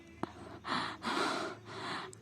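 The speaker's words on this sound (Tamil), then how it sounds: "உங்களுக்கா ஹெவி ப்ரீத் ஆகி மூச்சு மேல் மூச்சு கீழ் மூச்சு" A voice-over performer breathes heavily and gasps, with a short sharp intake followed by several long, loud, rhythmic breaths close to the mic, no words spoken.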